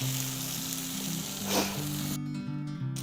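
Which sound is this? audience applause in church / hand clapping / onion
onion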